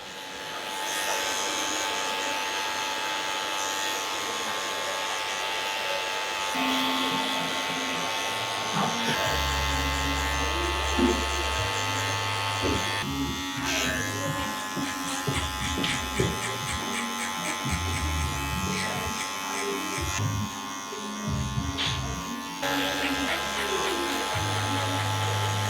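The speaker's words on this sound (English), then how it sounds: "Now, that is the majority of my clipper work done." Electric hair clippers buzz steadily and close while fading a man's hair with a 0.5 guard, the motor tone shifting as the blade moves through the hair, with some talk in the background.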